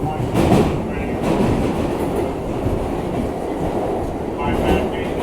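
An R62A express train on the IRT 7th Avenue Line runs downtown, giving a steady loud rumble with rhythmic wheel clatter and faint squeals heard from inside the car, with no talking.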